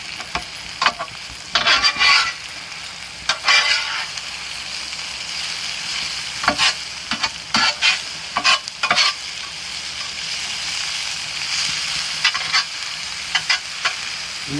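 Potatoes and onions fry on a Blackstone griddle with oil, a steady sizzle broken by repeated scraping bursts as a spatula stirs and mixes them.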